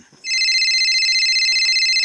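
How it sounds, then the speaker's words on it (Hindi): A telephone rings with a loud, steady electronic trill that starts abruptly and sustains, close and clear, with no talking over it. "किसका फोन आ गया?"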